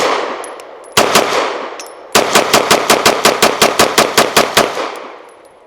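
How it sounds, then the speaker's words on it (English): A Ranger Arms RA9 pistol fires on a range with a full magazine: two separate loud shots, then a fast, even string of about a dozen cracks that fades into a short echoing tail. No speech. "We're just looking to find the rhythm of the gun and see how it runs fully stuffed."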